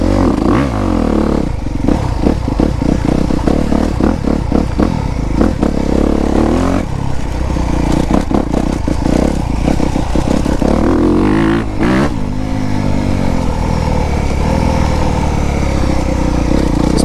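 A 2024 Honda CRF250R dirt bike runs hard and close through the whole stretch, its engine revving up and down in repeated surges with clattering and scraping from the riding, and no talk over it.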